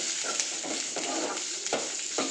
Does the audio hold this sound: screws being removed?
no